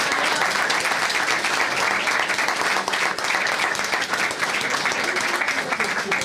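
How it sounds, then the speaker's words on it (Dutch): Steady, dense applause fills a hall at a book presentation, an audience clapping evenly and loudly throughout with a faint murmur of voices beneath. "En doe een applaus."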